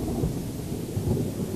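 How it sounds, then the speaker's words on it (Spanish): Thunder from rocket-triggered lightning in a natural storm rolls as a brief, deep continuous rumble, loud and close, with no voices. "El relámpago inducido es un relámpago que se genera en forma artificial en una tormenta natural."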